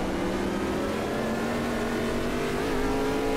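Race car engine from the sim racing game Automobilista 2 holds a steady, loud high-revving drone with its pitch climbing slowly as the car accelerates, continuous throughout with no talk.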